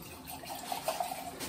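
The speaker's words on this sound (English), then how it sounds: "Get it in that salty water, get it swirled around." Glass rinsed and swirled by hand in really hot salty water in a home kitchen sink, a soft continuous watery slosh at low level with faint splashy peaks, no talk.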